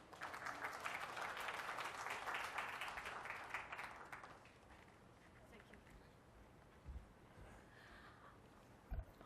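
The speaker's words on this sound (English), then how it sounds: "Can you have applause for her, please?" Applause from a conference audience at a CSR congress in Mumbai swells for the first few seconds, then thins into scattered claps, with a few bumps and faint voices afterward.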